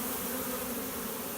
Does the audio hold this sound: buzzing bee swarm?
yes